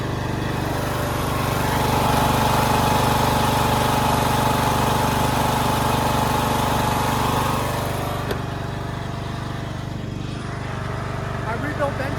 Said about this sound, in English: My rebuilt engine is dialed. Sounds great.